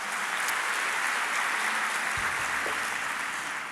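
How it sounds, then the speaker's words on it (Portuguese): A church congregation claps together in steady, sustained applause during an evangelical worship service, heard at moderate distance with an even wash of sound. "Dá uma salva de palmas."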